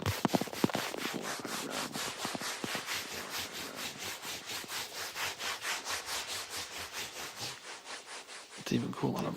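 Steady rhythmic rubbing strokes on a surface close to the mic, each swish echoed by a delay effect so the repeats blur into a continuous pulsing wash, dropping out briefly near the end.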